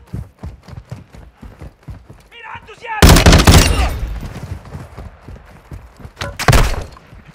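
Gunfire in Call of Duty: scattered soft thumps, then a sudden loud burst of automatic fire that tails off, followed by another sharp close volley near the end.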